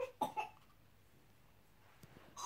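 A child coughs in a short burst of two or three harsh coughs, then quiet follows before another rough cough at the end.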